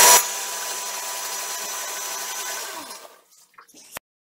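A kitchen mixer grinder blends tomato with a loud, steady whirring hum that runs for about three seconds, then winds down and stops, followed by a couple of faint clicks.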